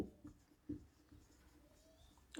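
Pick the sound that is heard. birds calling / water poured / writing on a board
writing on a board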